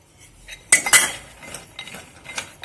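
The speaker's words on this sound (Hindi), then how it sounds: "इसको अच्छी तरह से मिक्स कर लेंगे" A spoon stirs almonds and cashews with canola oil, black pepper, black salt and red chili in a bowl, giving a few close clinks and scrapes amid quieter shuffling of the nuts, with no talk.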